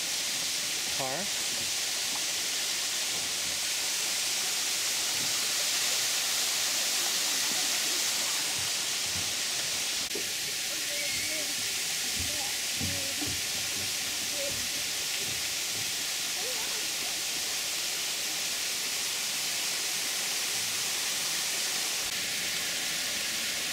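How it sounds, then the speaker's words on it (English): A waterfall at Cove Spring Park in Frankfort, Kentucky, pours as a steady, broad rushing roar that holds close and loud for the whole stretch, with faint scattered sounds under the constant wash. "another waterfall."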